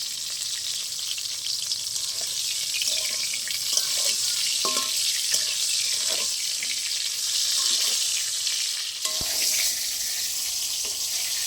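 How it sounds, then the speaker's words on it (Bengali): Slices of pointed gourd, lightly salted, fry in hot oil with a steady bright sizzle and crackle, broken by occasional stirring clatter and a brief knock near the end, close by with no voices. "পটলগুলো ভালো ভাজা হয়ে গেছে, এবার আমি তুলে নেব।"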